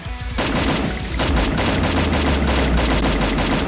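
Rapid automatic gunfire in the shooter game Free Fire rattles loud and continuous in dense bursts across the whole stretch, with no talk over it.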